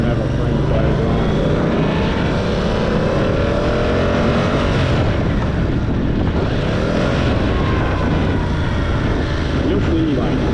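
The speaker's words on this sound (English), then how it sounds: "when I let off the accelerator, the engine brake is real nice on this" A 2026 Yamaha R7 motorcycle engine runs steadily while riding. It is loud and continuous, with broadband rumble and wind noise throughout and no clear pauses.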